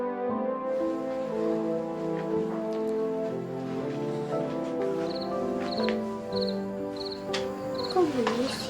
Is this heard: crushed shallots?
no